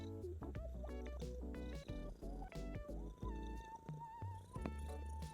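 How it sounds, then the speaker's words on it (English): Meg the cat purring softly as a low steady rumble in a room, mostly buried under loud, busy game music with melodic notes and sound effects. "I also hear Meg purring"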